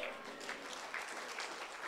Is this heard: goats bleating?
no